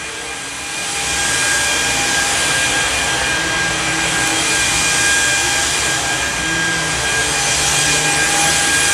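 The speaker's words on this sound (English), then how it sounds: "You can hear that brush bar digging into the carpet" A Samsung Jet VS70 cordless vacuum's brush bar digs into high-pile carpet with a steady, loud whirring drone and a bright high whine, running continuously close by.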